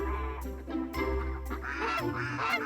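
Farmyard ducks and geese honking and quacking near a shelter before a snowstorm, repeated loud calls overlapping in a steady flock chorus, with no talk.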